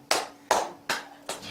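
Slow audience clapping at a Buddhist dharma talk: four distinct, evenly spaced claps, each sharp and followed by a short decay, fairly close and alone.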